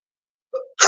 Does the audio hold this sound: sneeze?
yes